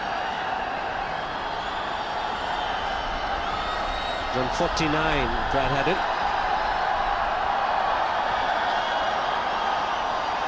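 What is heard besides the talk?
loud cricket crowd in India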